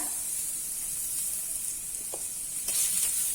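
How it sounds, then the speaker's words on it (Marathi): Finely chopped garlic frying in butter with onion and chilli, giving a steady, close sizzle and hiss throughout, with a faint stir or clink near the end. "हा जो बारीक चॉप केलेला गार्लिक आहे ना, तो टाकून चांगला रेड करून घ्यायचा आपल्याला"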